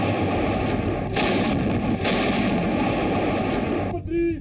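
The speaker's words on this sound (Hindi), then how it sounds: "गोलीबारी के धमाके यहां एक आम सी बात हो गई है।" Artillery shelling and gunfire at Kargil, with sustained heavy rumbling and two sharp, loud blasts about a second apart, followed by a brief distorted burst at the end.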